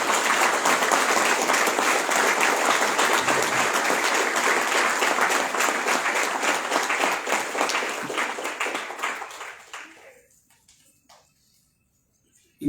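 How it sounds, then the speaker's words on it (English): Sustained audience applause at a birthday celebration for a spiritual leader, loud and dense for about nine seconds before fading out to near silence. "Please give a big round of applause"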